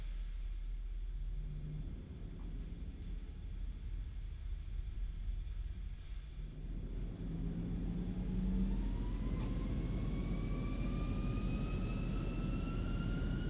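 ZIBO Boeing 737 jet engines taxiing in the X-Plane 11 video game produce a low, steady rumble with a faint whine that rises in pitch as thrust increases midway.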